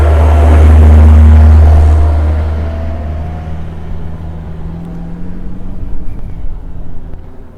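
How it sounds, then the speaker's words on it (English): A big tractor drives past close by, its deep engine rumble loud at first, then fading into a lower, steadier drone as it moves away, with no talking. "Big tractor."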